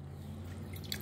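Boiled herbal water, reduced down as a home drink for diabetes, is strained through a filter. It drips and trickles steadily and softly, close by, with no one talking.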